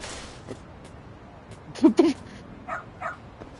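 A dog in the video game Lost Judgment gives a few short barks and whimpers at moderate distance, a louder pair near the middle followed by softer yips, over quiet ambient game sound.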